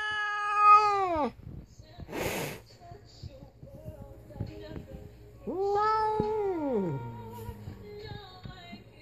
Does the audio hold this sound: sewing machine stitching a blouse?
no